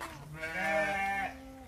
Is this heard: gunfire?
no